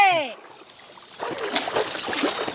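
Water is splashed and sprayed in short wet bursts after a brief moment of voices, the splashing growing busier toward the end.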